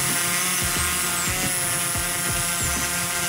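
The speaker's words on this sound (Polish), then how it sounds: "Taki hałas generuje Mavic." A DJI Mavic 3 Pro drone hovers close by, giving off a steady high-pitched buzzing whine with stacked tones and faint rhythmic pulsing, alone and continuous.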